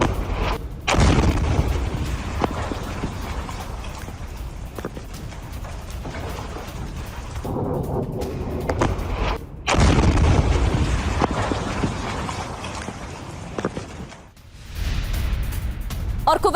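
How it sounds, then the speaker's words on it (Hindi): A missile strikes a military post and explodes in a heavy boom, with a sharp onset, loud rumbling blasts, crackle and debris, and a sudden cut before more booming follows. "और फिर होता है कितना बड़ा धमाका।"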